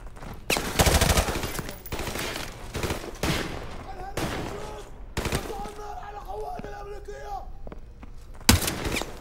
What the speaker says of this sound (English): Okay, getting shot from both sides.